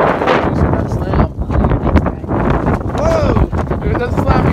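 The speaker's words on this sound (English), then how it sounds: "it is freaking windy out here" Strong wind buffets the microphone outdoors beside a Kawasaki Bayou KLF400 ATV, loud gusty roaring and rumbling throughout, with a person speaking underneath the blasts.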